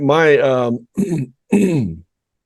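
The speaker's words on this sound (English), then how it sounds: "as I clear my throat" A person clears their throat in three rough, voiced bursts, close and loud, each separated by a brief pause.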